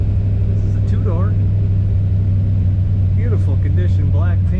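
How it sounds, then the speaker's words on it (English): A 1962 Chevrolet Biscayne two-door with a 4-speed idles steadily with a low, even rumble that runs throughout, while someone talks over it close by. "Today we have a 1962 Chevrolet Biscayne"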